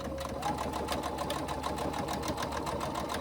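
A sewing machine stitches a 3/8 inch seam at a shortened stitch length on a sling bag, with a close, continuous rapid needle chatter throughout.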